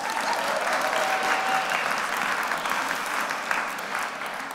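Applause from a theatre audience at a magic show, steady and dense clapping lasting throughout with no speech over it.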